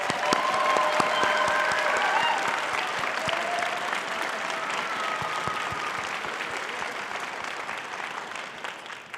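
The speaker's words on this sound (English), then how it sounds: "Let's give a round of applause to families and friends." A commencement ceremony crowd applauds steadily, a dense wash of clapping that starts full and slowly thins and softens toward the end.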